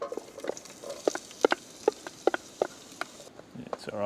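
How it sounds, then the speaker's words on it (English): Stew sizzling in a pot on a Trangia camping stove at a rainy campsite: sparse, faint pops and spits crackle irregularly over a quiet outdoor background. "There's just a tiny bit of sizzle there"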